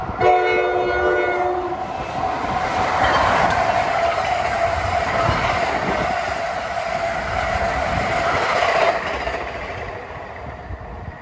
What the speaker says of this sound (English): That was train 3954, one of those hotshot trains, but it's going to New York.